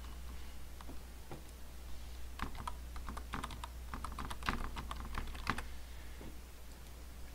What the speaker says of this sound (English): So I'm going to type in my own URL.